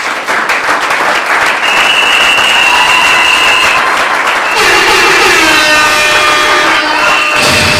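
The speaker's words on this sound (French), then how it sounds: "en invitant le lauréat, M. Pascal Niembo, à se tenir debout sous nos applaudissements" An audience applauds a laureate standing at an award and diploma ceremony: dense, loud, sustained clapping that fills the whole stretch and swells slightly midway, with no speech over it.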